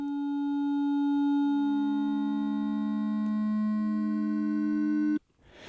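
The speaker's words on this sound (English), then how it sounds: "you can change how that smear happens by, changing the pan echo times, and you get stuff like this happening as a result." A sustained, smeared electronic tone with stacked harmonics, produced by changing pan echo times, holds steady and loud for about five seconds, then cuts off abruptly into a brief noisy tail.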